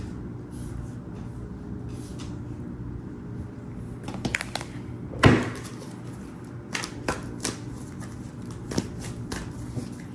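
Cards are shuffled close by in quick riffling bursts and soft flicks, with a low hum in the background.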